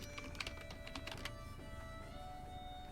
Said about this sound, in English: I'm going to type in blacksmith